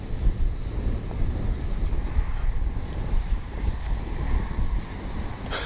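A Freewing Banshee RC sport jet flies a high-alpha pass with landing flaps down, its steady ducted-fan whine and broadband rush holding fairly loud and even throughout, no voices over it.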